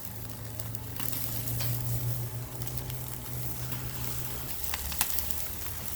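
Chicken pieces sizzle and spit steadily on a hot Weber kettle grill set up with hot and cool zones, fat flaring at times, a close, continuous crackling hiss with a low hum beneath and one sharper pop near the end.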